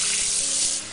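Lukewarm water sprays from a tap to wash a toddler's hair, a close, steady hiss lasting under a second and tapering at the end.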